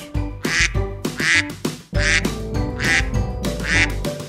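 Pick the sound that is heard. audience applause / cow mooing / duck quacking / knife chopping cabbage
duck quacking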